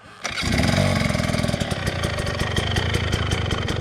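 A trials motorcycle engine kicks into life and then holds low revs, a loud, close, rapid mechanical putter with small throttle blips, heard at a clinic in a field and forest setting, with no voices.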